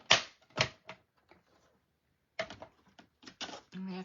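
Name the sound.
cut and emboss machine running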